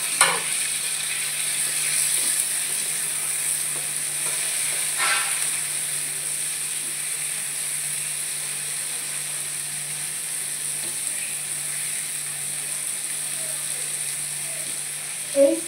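Chopped tomatoes frying in a pan with a steady, even sizzle, broken by a few scraping stirs near the start and end, alone without talk.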